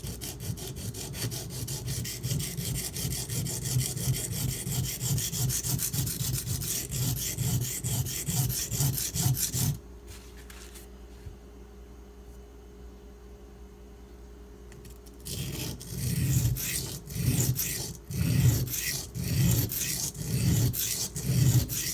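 A lockback knife blade is ground on a sharpener in steady, rhythmic rasping strokes that run continuously, pause for several seconds of near quiet, then resume with strong, close scraping.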